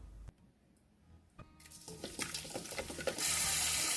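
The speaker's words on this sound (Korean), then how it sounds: "물에 흔들어서 건져줍니다" Water sloshes and splashes as oysters are swished around in a bowl of water, starting quiet with small clinks, then growing into steady running, splashing water.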